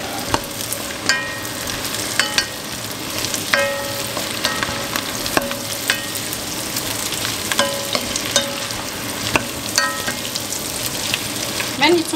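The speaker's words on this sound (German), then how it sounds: "Jetzt brate ich auch noch ein bisschen die Zucchini mit an, aber so ein bisschen für die Röstaromen." Zucchini and celery frying in a pan, a loud, continuous close-up sizzle with repeated clinks and scrapes of a utensil stirring at irregular intervals throughout.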